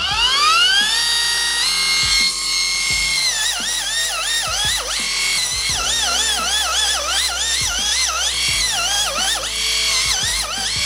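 Electric pedicure machine with a coarse sanding bit grinding thick heel skin, a loud close high-pitched whine rising at startup, then wavering in pitch as it bears down, with repeated pressure dips and no talk.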